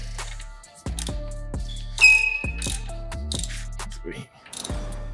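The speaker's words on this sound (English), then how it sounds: "get your socket on the wheel nut" Socket wrench working on a dirt bike rear wheel nut, a close run of sharp rhythmic ratchet clicks in repeated bursts, with a brief squeaky whine in the middle and a soft rustle at the end.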